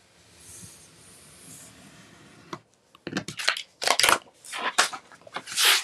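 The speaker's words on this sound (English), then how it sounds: "I'll trim away some of the excess from this end." A finger blade trims excess paper for an A5 refillable notebook, making a few sharp scraping and crunching cuts up close that follow a quiet stretch.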